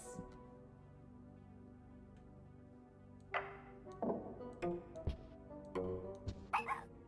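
A dog in a storytelling video game whimpers and gives a few soft yips and barks in short bursts over a quiet musical background.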